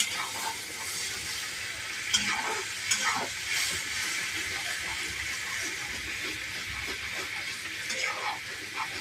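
Spices sizzle and crackle in a hot pan, a steady hiss with occasional stirring scrapes, close and fairly quiet.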